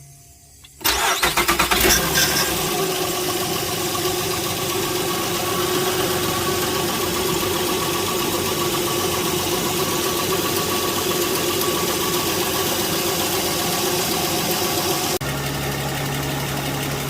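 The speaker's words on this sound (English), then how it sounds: "Now we're going to start the car and run the air conditioner." A 2006 Honda Pilot engine cranks and catches within about a second, then settles into a steady, loud idle that runs on without any talk, with a slight shift in tone near the end.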